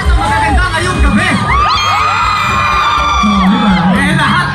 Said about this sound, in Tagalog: Pwede ko ba malabas sumigaw nga ang lahat ng magaganda ngayong gabi?